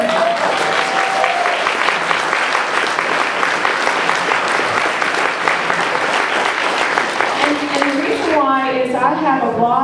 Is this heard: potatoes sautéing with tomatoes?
no